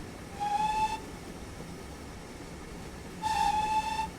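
A GWR 9400 Pannier Tank steam locomotive whistle sounds in Train Simulator, two short steady shrill blasts about three seconds apart over a low rumbling background of the engine.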